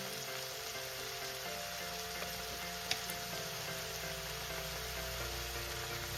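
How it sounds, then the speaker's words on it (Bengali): Mustard greens with turmeric frying in a pan, a faint steady sizzle with a soft continuous hiss and an occasional light tap, quiet and without voices. "এবার আমি এটাকে ভালো করে ভেজে নেব"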